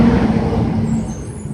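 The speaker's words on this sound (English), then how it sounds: "let the garbage truck go by" A garbage truck passes by, its steady low engine rumble loud at first and slowly fading, with no voices over it.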